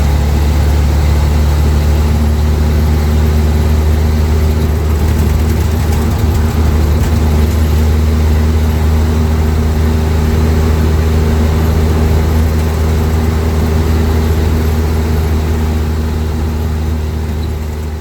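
A 1949 Flathead engine fitted with Holley EFI runs steadily at a low, even idle, a deep continuous rumble heard close and loud for the whole stretch with no voices.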